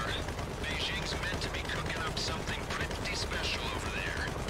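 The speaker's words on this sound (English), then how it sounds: "they'll really like hearing the constant gunfire. It never stops" Nonstop gunfire from the video game GTA Online during the Doomsday Heist finale, a dense continuous clatter of shots and mechanical noise holding steady throughout with no pauses.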